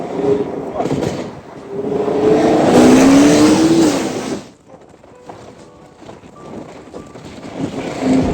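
A Chevrolet Camaro fitted with a DSX flex fuel kit spins its wheels, the engine roaring up loudly as tires squeal in a rising whine, then easing off to a lower rumble while people talk nearby.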